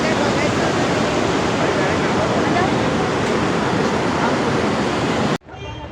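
River water rushes loudly and steadily near the Manikaran hot springs, a dense continuous roar that stops abruptly just before the end.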